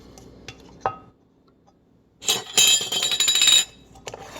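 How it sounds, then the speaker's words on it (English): Metal lid and ring being fitted onto a glass canning jar of dill relish, a few faint clinks followed by a louder burst of scraping, rattling metal-on-glass sound up close. "And we're going to put a lid on it."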